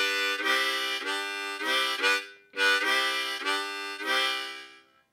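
Harmonica in C blowing and drawing a blues shuffle rhythm, repeated chordy bursts with short breaths between, close and clear with no other sounds.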